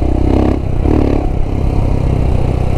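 A big-bore Royal Enfield Himalayan motorcycle engine revs up loud and close, two quick throttle blips rising and falling over a rough, clattery idle.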